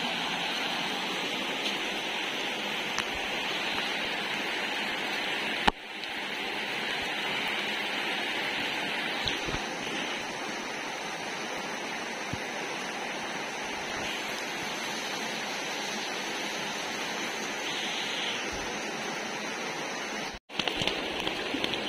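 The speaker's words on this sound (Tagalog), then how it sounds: "Lakas ang ulan, no?" Heavy rain pours down steadily and loudly close by, a dense unbroken hiss that runs the whole time, with a couple of brief sharp knocks and a short break near the end.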